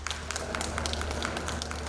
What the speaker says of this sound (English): Please welcome sir with applause